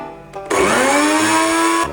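A blender motor whirs loudly and steadily with watermelon inside, its blade not spinning, after a brief quieter start; the high-pitched motor whine continues unbroken to the end.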